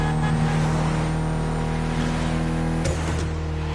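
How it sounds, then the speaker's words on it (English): A Mitsubishi inline four-cylinder car engine of about 280 horsepower drones steadily at a constant pitch, loud and close with no voices, a brief sharp knock near the end. "Mitsubishi gave us a nice inline four-cylinder with already 280 horsepower."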